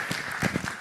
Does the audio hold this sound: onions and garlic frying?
no